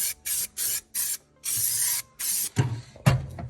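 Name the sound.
spray painting black paint onto a 1981 GMC kicker panel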